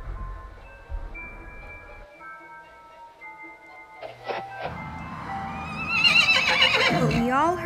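A horse whinnies in a long, rising and falling neigh over faint hoof clip-clop, with music playing under it. The sound is fairly clear and close.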